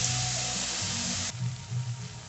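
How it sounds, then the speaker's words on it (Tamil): Tomatoes and onions sauté with salt in a pan for a jackfruit seed and brinjal kuzhambu, a steady hiss of frying that drops abruptly partway through, leaving a softer sizzle with low bubbling underneath. "சேர்த்து நல்லா தக்காளி வதங்குற வண்ணம் வதக்கி விடலாம்"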